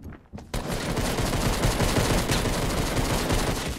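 Gunfire in a Fortnite match erupts after a brief pause and keeps going as a dense, continuous barrage of rapid shots, loud and close throughout.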